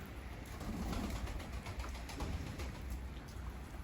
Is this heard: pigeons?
yes